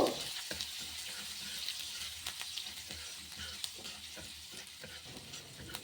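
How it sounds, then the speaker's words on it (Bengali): Chopped green chillies and grated ginger fry in a pan for pea-stuffed kachori filling, a soft continuous sizzle at close range broken by scattered crisp pops and stirring scrapes, with no talking. "এবার আমি এর মধ্যে অ্যাড করে দেব কুচিয়ে রাখা দুটো কাঁচা লঙ্কা আর গেট করে রাখা এক টুকরো আদা দিয়ে আবার এটাকেও আমি ভেজে নেব"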